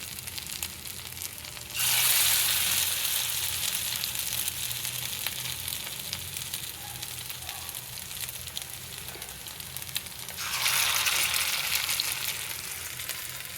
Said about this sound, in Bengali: যেটা এক্সট্রা ছিল সেটা দিয়ে বড়া করে নিচ্ছি।